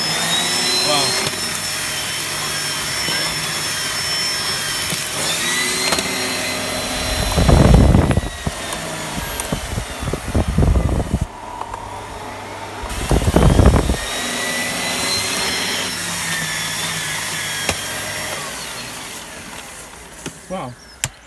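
Miele Cat & Dog 6000 vacuum cleaner in for a service, running with a steady whine from worn motor bearings and a slight rattle, loud and continuous, broken by a few louder bursts and pauses.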